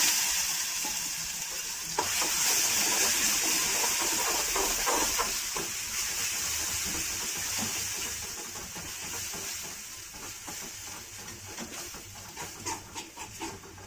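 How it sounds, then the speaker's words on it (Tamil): Ground masala paste fries in hot oil in a kadai for a mochai masal (field bean curry), giving a loud, steady sizzle and hiss that softens and breaks into short crackles toward the end, with no voices. "இப்போ நம்ம குறை குறைன்னு அரைச்சி வச்சுக்க மசாலா சேர்த்துக்கலாம்"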